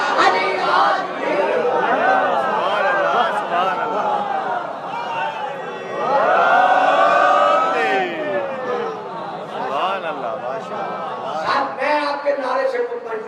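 A crowd at a religious gathering in Kot Diji, Sindh chants a slogan in unison, many voices loud and continuous, rising to a stronger swell midway before easing off.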